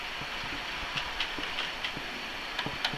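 Bachmann class 47 model locomotive hauling four parcel wagons around a model railway layout, a steady running hum with regular light clicks as the wheels cross rail joints, close and moderately quiet.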